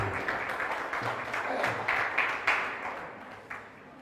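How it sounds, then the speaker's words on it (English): Steady crowd applause fills the space, a dense wash of clapping that swells slightly and then fades toward the end, with faint voices mixed in. "give him a round of applause"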